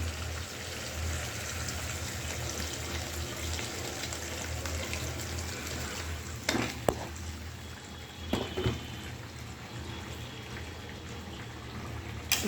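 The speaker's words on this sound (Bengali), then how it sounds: "তো এখন আমি জল দিয়ে দিই।" Water poured into a simmering curry in a pan, a steady soft wash of liquid noise with low bubbling underneath and a couple of brief clatters near the end, no talk.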